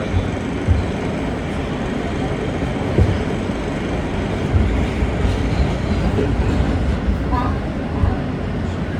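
An R160 subway train running on the G line in New York, a continuous loud rumble and rail noise with faint clickety-clack, heard from inside the car with no talk over it.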